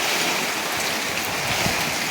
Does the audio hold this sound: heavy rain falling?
yes